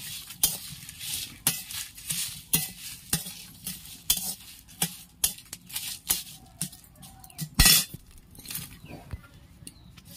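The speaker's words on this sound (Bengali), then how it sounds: "নেড়ে নেড়ে এগুলো ভেজে নেব।" Whole spices scrape and rattle in a dry wok as a utensil stirs them in irregular strokes, with brief sharp clinks against the metal.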